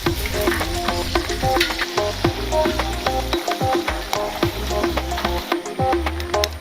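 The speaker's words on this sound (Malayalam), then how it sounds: "ഇനി നമുക്ക് ഈ ചിക്കൻ ഒന്ന് മറിച്ചിട്ട് വേവിച്ചെടുക്കാം" Chicken pieces sizzle and fry steadily in a pan, with repeated clinks and scrapes of a spatula as they are flipped, busy and close throughout.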